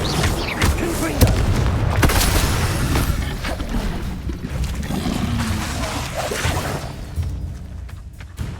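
Explosions from the Confringo blasting spell in Hogwarts Legacy, booming blasts and rumbling impacts during spell combat, loud and continuous at first and then fading.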